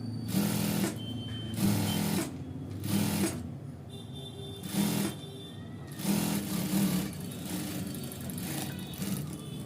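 A sewing machine stitches an ankle-length pant in bursts of rapid whirring, several runs of a second or so separated by short pauses, close and steady.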